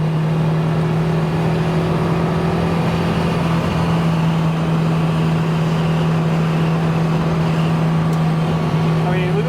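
A 1969 Porsche 911 E, fully restored, droning steadily as it drives, a constant engine tone held throughout with road noise beneath and no clear rise into a rev.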